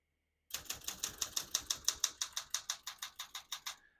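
Keys strike steadily on a 1968 Olympia SM9 portable manual typewriter, about twenty sharp metallic clacks in an even, brisk rhythm, close up and alone, ending with a faint bell-like ring.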